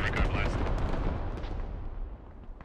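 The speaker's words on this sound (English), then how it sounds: "UB-32 rocket artillery. It's all blowing up on the side of Kohat." A UB-32 rocket artillery barrage in a war video game slams into a hillside near Kohat as a continuous rumble of blasts and crackling impacts that slowly fades.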